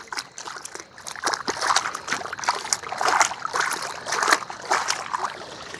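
Cut plantain tuber is washed by hand in water, with repeated sloshing and splashing in uneven bursts, close and moderately loud, in a Sri Lankan village cooking setting.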